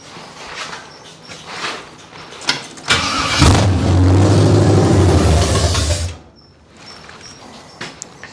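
Abandoned 1968 Chevrolet Camaro with a carburetor fault: a few cranking clicks, then the engine catches and runs loud and rough for about three seconds before dying abruptly, leaving quiet with faint ticks.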